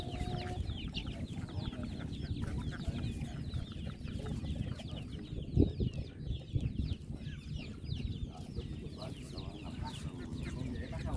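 A flock of chickens cluck busily and continuously at a fisherman's coop by Dau Tieng Lake in Tay Ninh, Vietnam, with a louder squawk midway and faint background noise throughout.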